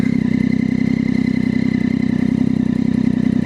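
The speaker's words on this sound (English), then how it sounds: "This bike sounds insane sometimes. I feel like it could be louder." A motorcycle with a carbon fiber exhaust idles steadily nearby, its engine putting out a low, even throb with a fine rapid pulsing rhythm and no talk over it.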